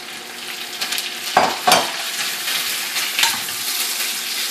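Cubed butternut squash sizzles in a hot pan while being stirred, a steady close hiss broken by a few louder scrapes and clatters of the utensil.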